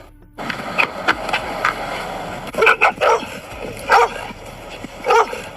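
Several dogs bark and yip in short bursts at a toy car, with sharp clustered barks recurring close by and a whine in between.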